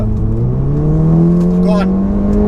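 A front-wheel-drive Seat Cupra with over 500 hp accelerating hard, its engine note climbing steadily in pitch, loud and close from inside the car, with a brief high whine near the end.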